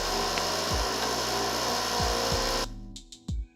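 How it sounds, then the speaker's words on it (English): A power drill whirs nearby in a steady, droning run with a few pitch dips as it bites, then cuts off and gives a couple of short final bursts. "Sorry, there was some drilling happening"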